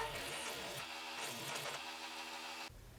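A small rotary tool whines steadily while boring a 1.5 mm pilot hole and widening it with a 2.2 mm burr in a small wooden cross, its tone wavering as it bites, then dropping to a lower hum near the end.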